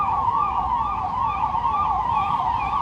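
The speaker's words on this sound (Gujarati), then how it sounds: "જો પોલીસની ગાડી આવી હશે" A police siren wails steadily in a rising and falling pattern, loud and continuous, with faint road traffic underneath.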